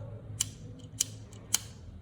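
Three crisp scissor snips cut through leftover sisal cord, evenly spaced and close, over a faint low background hum.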